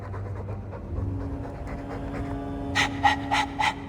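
A dog pants in rapid, rhythmic breaths in the video game Dragon Age 2, close and fairly quiet, followed near the end by a few sharper bright bursts.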